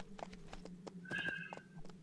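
Horse in the post-apocalyptic video game Fallen Earth, with steady clip-clop hoofbeats and a brief high whinny partway through, moderately loud over a faint background hum.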